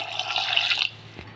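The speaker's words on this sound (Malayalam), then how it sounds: "ആവശ്യത്തിനുള്ള വെള്ളം കൂടെ ഒഴിക്കാവേ." Water poured into a clay pot holding ripe mango curry, a steady bright splashing stream for under a second that stops abruptly, then quiet with a faint knock.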